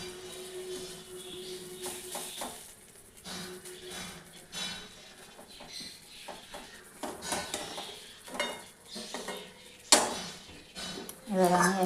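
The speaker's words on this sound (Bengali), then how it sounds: "এবার আমি এক এক করে বড়াগুলো কড়া থেকে তুলে নেব।" Fried vadas are lifted one by one from a kadai with a metal utensil, giving scattered clinks and scrapes against the pan over a faint sizzle, with a soft voice at times.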